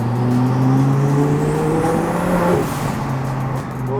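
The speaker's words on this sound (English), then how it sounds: "So now we'll throw it into sport. Totally changes everything. You guys will hear on the next acceleration will sound completely different" A turbocharged car in sport mode pulls hard from third gear, its engine note rising steadily under load, then easing off near the end, heard close from inside the cabin.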